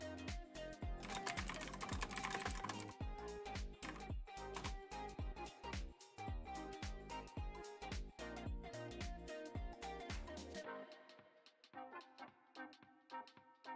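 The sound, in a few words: typing on a computer keyboard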